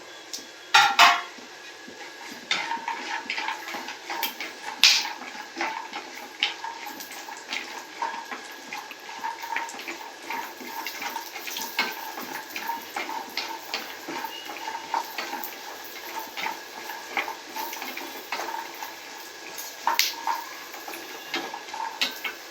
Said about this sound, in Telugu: ఇప్పుడు దీనిలో జీడిపప్పు కూడా వేసి ఫ్రై చేసుకోవాలి